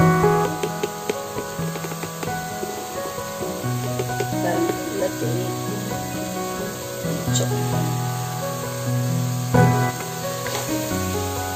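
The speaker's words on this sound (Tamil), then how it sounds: "பூண்டு பேஸ்ட்டும் சேர்த்து நல்லா வதக்கிக்கலாம்." Garlic paste sautéing in a hot pan gives a steady crackling sizzle with bright spitting pops throughout, close and continuous, alongside faint clinks.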